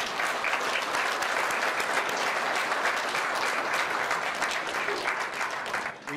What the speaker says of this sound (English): I think we should give them a round of applause for the work that they do